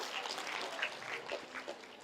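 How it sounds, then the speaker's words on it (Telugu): An audience at a motivational talk claps in a loose, scattered patter that stays fairly soft and brief, with no voices over it. "క్లాప్స్ కొట్టుకోండి మనకి మనం కొడండి."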